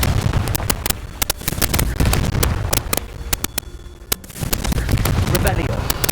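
Spell blasts from Confringo in the Hogwarts Legacy video game crack out in rapid, sharp bangs, a busy string of explosive hits and bursts of combat that stay loud throughout.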